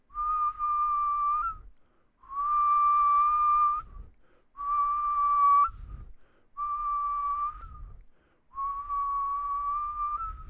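A double whistle made by mouth: five sustained whistled notes of about a second and a half each, separated by short pauses, close and loud, with a faint second pitch running above each note and no speech.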